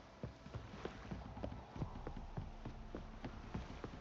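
Horse hoofbeats from The Witcher 3: Wild Hunt video game, a steady trotting clip-clop of hooves at moderate distance over a continuous ambient bed, fairly quiet.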